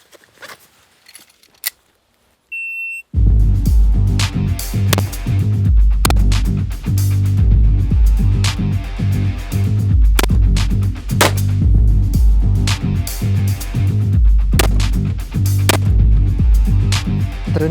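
Assault rifle fire during a shooting drill with different sights, sharp loud reports in quick bursts and single shots after a near-silent start, echoing around an outdoor range.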